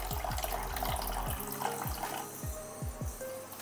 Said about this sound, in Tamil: இந்த தண்ணியெல்லாம் வந்து இதில் வடிச்சுடலாம்.